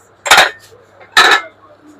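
Ceramic dinner plates clink twice against one another as they are picked up and handled, each a short bright clatter about a second apart, close by in a quiet shop.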